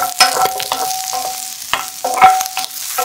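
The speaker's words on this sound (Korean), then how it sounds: "달궈지면 비엔나 소세지와 대파를 넣고 노릇노릇하게 색깔 날 때까지 볶아주세요." Vienna sausages and chopped green onion sizzle in a spoonful of hot cooking oil, stir-fried until golden, with sharp spatula scrapes and clacks breaking through a steady frying hiss.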